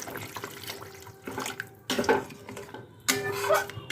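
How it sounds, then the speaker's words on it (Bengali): Water poured into a cooking pan while making a rohu or katla fish curry in a home kitchen, heard as a few splashing, sloshing bursts with pan clatter, fairly close and moderately loud. "জল যোগ করে দিচ্ছি।"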